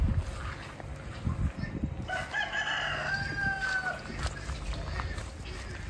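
A rooster crows once, loud and drawn out, with low murmuring voices and faint outdoor noise around it.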